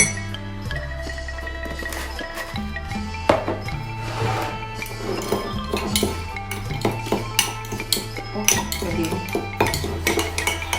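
A metal spoon clinks against a container as a spoonful of MSG seasoning is added, a few light scattered taps and scrapes heard up close over a steady low hum.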